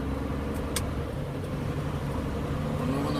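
Super 10 car engine pulling steadily under acceleration, a continuous low drone with a faint rising hum, heard from inside the car with no talking.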